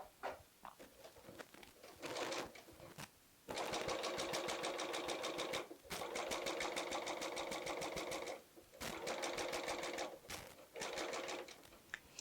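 A serger sewing machine stitches pintucks into fabric for a placemat, running in steady bursts of rapid mechanical whirring broken by short pauses, loud and close with no talking.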